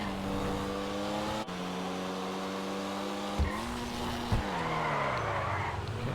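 A Pfister Comet SR car in GTA slides out through a turn, engine droning steadily with tires squealing and a couple of sharp thumps as the pitch shifts, no speech.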